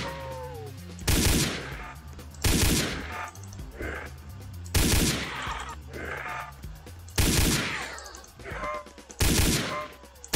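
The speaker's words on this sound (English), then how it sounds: "I'll shoot you." Gunfire in a Roblox zombie video game: five loud, close bursts spaced roughly two seconds apart, each a short rattling volley, with voices reacting in the gaps.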